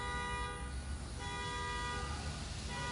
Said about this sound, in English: Now somebody's car alarm is going off.